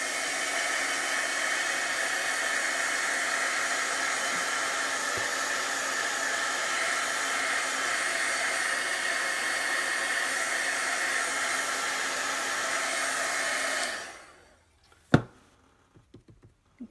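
A dryer blows steadily on chalk paste on a craft sign, a loud, constant whooshing hum that cuts off near the end, followed by a couple of sharp taps and knocks in the quiet.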